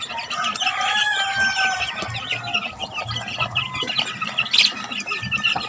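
Gamecocks cluck and squawk close by in a busy flock, with a rooster crowing through the chatter.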